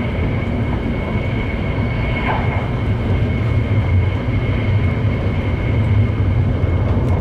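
Hokuriku limited express train running through snow, a steady deep rumble of wheels and carriage noise with a faint high whine, loud and unbroken from close inside or beside the train.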